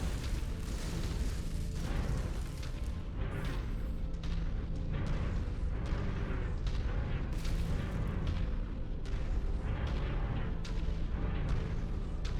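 Mech in MechWarrior 5 firing volleys of LRM and SRM missiles, a dense, continuous barrage of booming launches and blasts with repeated sharper bursts throughout, loud and close.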